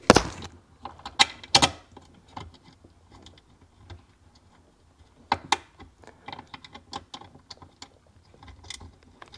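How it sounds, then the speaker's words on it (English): Tools work on a part of a Seadoo 951 watercraft, giving irregular close metallic clicks, taps and ratchet-like ticking in uneven bursts, with louder clunks early and again midway and no talk. "I guess we should bolt it down first."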